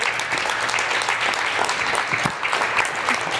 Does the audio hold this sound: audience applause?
yes